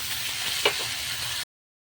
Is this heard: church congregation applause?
no